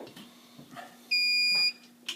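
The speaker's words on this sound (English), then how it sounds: "And that beep means the DVR is powered on." A single clear electronic beep from a security camera DVR powering on, about half a second long, sounds once amid quiet room noise and small handling clicks.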